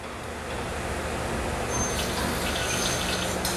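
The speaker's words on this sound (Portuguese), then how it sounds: "Drenagem do óleo do diferencial dianteiro agora." Oil drains steadily from the front differential of a red Toyota Hilux, a continuous close gushing pour that holds even in level throughout with no voices.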